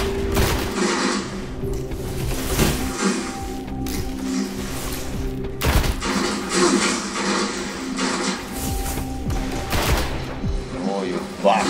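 Weapon fire in the Destiny video game, rapid bursts and heavy booms repeating steadily through a dense battle mix, with players talking over the action.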